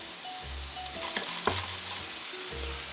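Mushrooms fry in a hot pan for yakisoba, a close, steady sizzle broken by a few brief clanks of stirring, with a low hum in the background.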